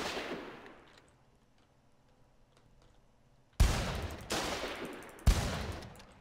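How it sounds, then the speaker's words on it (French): Three sharp, loud shotgun blasts ring out in a first-person shooter video game, each followed by a decaying echo, after a quieter stretch of faint ambient game noise. "Évidemment, au shotgun."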